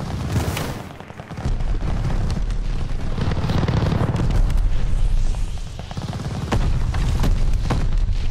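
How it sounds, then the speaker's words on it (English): Heavy airstrike explosions in a first-person shooter video game, a dense barrage of booming blasts and rumbling detonations rolling continuously for several seconds, loud and close, with sharp gunfire-like cracks punching through. "Friendly sending an airstrike."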